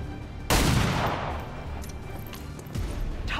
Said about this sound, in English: She needs to fire a pistol